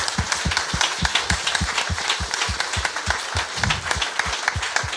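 A church congregation applauds and acclaims God at a worship service, with rhythmic unison clapping in a steady, quick beat, loud and close, and a few faint voices and cheers under it.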